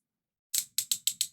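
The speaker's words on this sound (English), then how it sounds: "That is a satisfying clicking sound." Five crisp plastic clicks from a toy Doctor Who sonic screwdriver, one isolated click followed by four quick ones in a steady row, close and clear.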